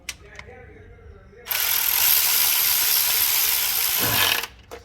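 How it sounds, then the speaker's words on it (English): A ratchet tightens the intake manifold bolts on a 2005-2015 Toyota Tacoma 4.0L V6, giving a loud, steady, close-up burst of about three seconds between quieter stretches. "we're gonna go ahead and tighten down our intake bolts."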